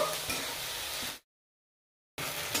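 Chopped onion and tomato sizzle in a pan as they are stirred, a dense, close frying hiss that cuts off into a second of silence before resuming.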